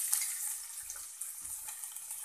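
Ginger and crushed garlic fry in a pan with cumin, a steady hissing sizzle with a few soft low knocks of stirring underneath, no talk.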